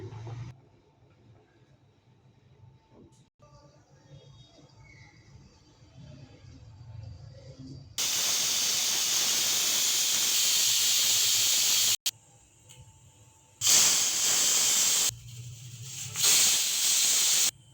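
Pressure cooker with tamarind for soppina upsaaru, first a quiet low bubbling, then loud, sharp steam hisses bursting out in several long blasts with short pauses between, with no talk.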